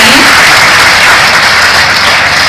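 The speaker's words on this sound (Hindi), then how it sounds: "एक बार जोरदार तालियां आप सबके हाथ से निकलनी चाहिए।" An audience at a ceremony breaks into loud, sustained applause, a dense even roar of many hands clapping close by with no break.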